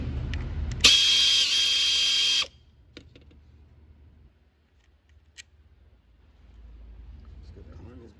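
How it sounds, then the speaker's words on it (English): A power tool whirs loudly for about a second and a half, close by, as it removes the bolt holding the coil harness on an Audi A4. Faint clicks and light handling noises follow. "let's go ahead and remove the bolt here that holds the harness for the coils"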